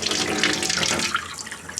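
Steady stream of water running from a tap without an aerator in a winterized house, the well pump just restored, a continuous hissing splash that wavers slightly and stays close and moderately loud throughout.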